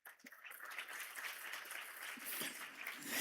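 A church congregation applauds, a soft, continuous patter of many hands clapping that swells slightly toward the end, heard at a distance.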